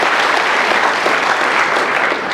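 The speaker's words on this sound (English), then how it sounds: "Can we clap for ourselves," A university audience at a cultural week celebration clapping for themselves: loud, dense, continuous applause from a large crowd, an even roar of hands with no pause.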